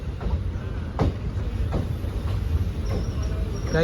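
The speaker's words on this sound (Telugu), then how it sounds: "అలా పది నిమిషాల తర్వాత దువ్వాడ రైల్వే స్టేషన్ నుంచి మన ట్రైన్ అయితే బయలుదేరింది" The Simhadri Express pulls out of Duvvada railway station, a low continuous rumble broken by a few spaced clunks and rattles of the carriages.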